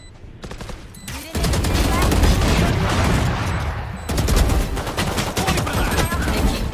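Loud, dense gunfire from the Valorant video game, with rapid bursts of shots running almost continuously through the clip and a brief lull near the middle.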